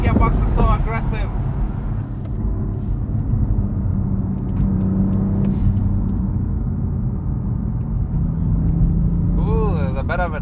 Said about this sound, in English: Oh, that gearbox is so aggressive.